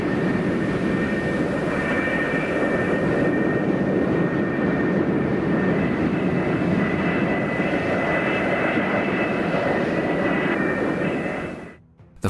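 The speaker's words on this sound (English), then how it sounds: "The flight deck director meticulously guides each aircraft into position over its assigned catapult" A military jet taxis on an aircraft carrier flight deck into position over a catapult, its engine a loud, steady, close roar with a high whine, cutting off abruptly at the end.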